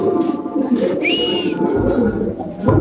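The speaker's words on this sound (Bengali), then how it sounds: "আজকের এই ভিডিওতে টপ কোয়ালিটি লাহরি কবুতর আছে" Lahori pigeons coo softly and steadily with low throaty murmurs, and a clear whistle rises briefly in the middle.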